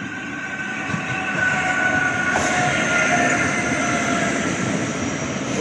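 A Class 465 electric train arriving at Sevenoaks station on the line toward London Charing Cross, with a steady, fairly loud rumble and hum of the passing cars and a faint high whine, no talk.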